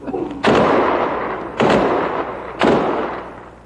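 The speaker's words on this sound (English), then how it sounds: "And the sound of gunshots, these in salute to a policeman" Three loud gunshots fired in salute at a policeman's funeral ring out about a second apart, each booming and echoing away before the next volley.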